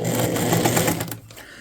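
A sewing machine stitches a quarter-inch seam along the edge of a diagonal-pattern baby quilt top, running loud and close in a rapid steady whir, then stopping abruptly near the end.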